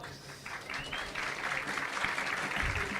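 Audience applause in a hall during a political speech in Brazil, a dense wash of clapping that swells and stays steady throughout, with faint voices mixed in.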